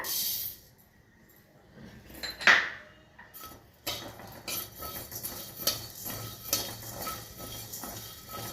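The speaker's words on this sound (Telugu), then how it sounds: "ధనియాలు వేసుకుంటున్నా" Coriander seeds tipped into a pan for karivepaku podi, a quick rattling pour and metallic clink, then a steady run of light tapping and rattling as the seeds move in the pan, close and without speech.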